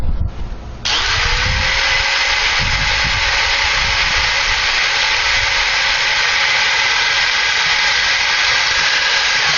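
A power drill whirs up after a short pause and runs steadily at a high, even pitch as it bores into thick plastic, loud and close, with no talking.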